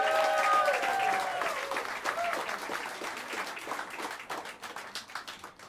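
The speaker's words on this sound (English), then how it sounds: "Please, a wonderful, wonderful round of applause for Mr." The audience at Smalls Jazz Club in New York applauds a djembe player, a full burst of crowd clapping that follows a lingering musical tone, then thins into scattered, distinct claps by the end.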